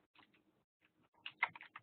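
Keystrokes on a computer keyboard during a class meeting, a few sparse taps followed by a quicker burst of clicks, close and isolated with no speech.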